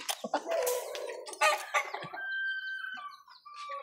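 Chickens cluck and a rooster calls nearby in a busy farmyard, with short bursts of squawking followed by steadier, higher clucks.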